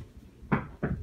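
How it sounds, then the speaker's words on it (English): Two knocks rap on a wooden door in a children's story about a wolf at a little pig's house, one firm thump then a second close behind, fairly near and loud over quiet background. "So he knocked on the door again"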